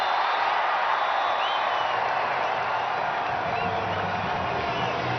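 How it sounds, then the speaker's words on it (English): A packed stadium crowd at a women's T20 cricket match between India and Pakistan roars and cheers in a dense, continuous wall of noise, loud and constant throughout. "This crowd is just amazing."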